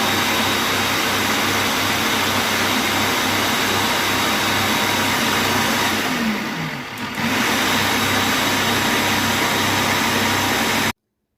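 An electric blender whirs steadily while mixing tahini sauce, a loud continuous motor drone that holds for about eleven seconds, dips briefly near the middle, then cuts off abruptly.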